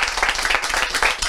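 Brief, close clapping from a small audience at a bookshop game event, with individual hand claps audible in an uneven, lively rhythm.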